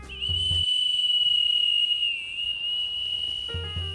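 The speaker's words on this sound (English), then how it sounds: "It comes with a whistle so you can hoot and holler at the ladies." A survival kit whistle blown in one long, steady, shrill tone lasting about three seconds, loud and close, framed by brief handling sounds at the start and end.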